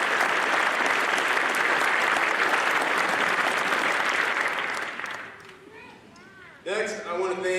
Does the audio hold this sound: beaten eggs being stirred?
no